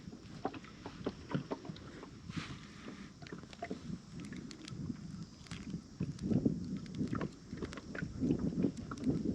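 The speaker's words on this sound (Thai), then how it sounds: "โอ้ลมนี่" Outdoor wind buffets the microphone in uneven, rumbling gusts that grow stronger toward the end, with scattered faint knocks and clicks alongside.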